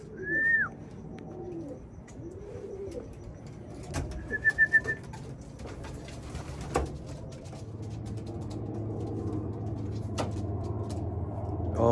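Racing pigeons coo and call inside a loft, with a couple of short clear calls and soft cooing over a low background rumble, plus scattered knocks and shuffling.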